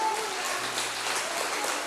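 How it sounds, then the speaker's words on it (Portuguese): Church congregation applauding during a Portuguese-language sermon, a steady dense wash of clapping at moderate level throughout, with no clear voice over it. "aplauda o Senhor,"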